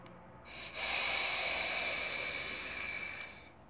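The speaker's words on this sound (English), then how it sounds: "Next test we got for you guys is that nostril exhale" A long, steady breath of e-juice vapor pushed out through the nostrils, a close, soft airy hiss lasting about three seconds with no talking.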